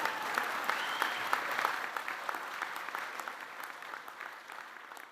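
Audience applause fills a college presidential inauguration at Knox College, a dense steady clapping from a large crowd that fades gradually toward the end.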